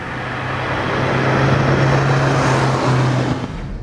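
An old, worn-out Volkswagen Polo drives along with a steady engine drone and road roar from inside, a low hum wavering slightly as it cruises, loud and continuous with no voices.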